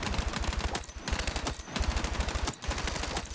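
A rifle in the Battlefield 6 video game fires in rapid automatic bursts, three long strings of sharp, punchy shots with heavy low thump separated by short pauses.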